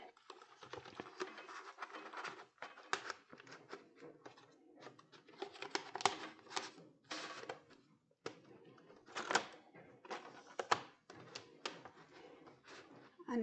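A Cricut cutting machine slices small vinyl stickers, giving bursts of close clattering and whirring as the carriage moves, broken by short pauses and restarts with no voices.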